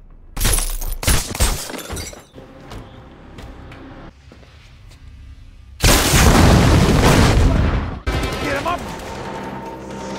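Explosions rip through a Russian military base in a submarine action film, with sharp booming blasts, shattering crashes and bursts like gunfire arriving in loud waves, separated by quieter stretches where voices can be heard.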